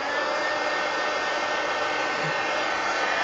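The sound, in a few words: drying damp art journal pages with a dryer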